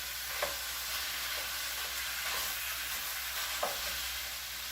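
Ground beef browns in a hot pan with a steady low sizzle while being stirred, broken up and pressed, with a couple of sharper scraping taps along the way. No one speaks.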